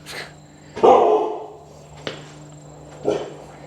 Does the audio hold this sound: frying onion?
no